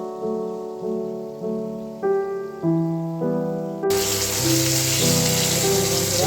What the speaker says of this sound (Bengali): মাছগুলো এভাবে উল্টে পাল্টে ভালো করে ভেজে নিচ্ছি।